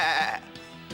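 A single goat bleats loudly and close by in a strong, wavering cry that lasts under half a second and then fades.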